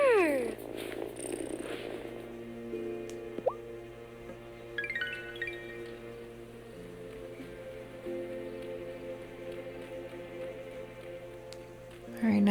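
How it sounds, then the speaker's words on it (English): A cat purrs in the farming life-sim game Wylde Flowers, a steady low rumble running under game music with soft chimes and a brief plop, a voice speaking briefly near the start. "Listen to that purr."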